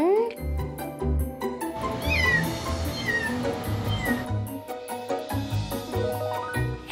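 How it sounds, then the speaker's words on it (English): A kitten found inside a shed meows repeatedly, high rising cries near and clear, mixed with background music and some voices. "It's a kitten!"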